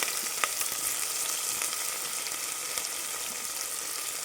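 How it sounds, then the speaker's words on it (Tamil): Onions sautéing in a pan for tomato rice, a steady close crackling sizzle with occasional sharp pops and faint stirring, alone with no voices. "உடனே நம்ம வெங்காயத்தை போட்டு வதக்கிட்டு அந்த வெங்காயத்திலே கொஞ்சம் உப்பு போட்டு வதக்கினா சீக்கிரம் வதங்கும்"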